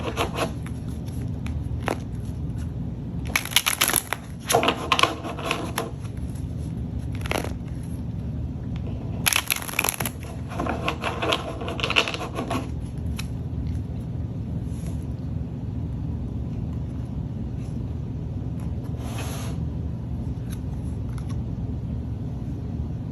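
Tarot cards shuffled by hand in several short riffling bursts with pauses between, close and fairly quiet against a low steady room hum.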